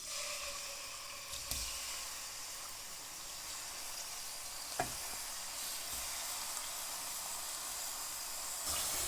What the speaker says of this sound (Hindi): जब तक चिकन हमारा फ्राई होता है इसको हल्का हल्का आंच पे फ्राई करना है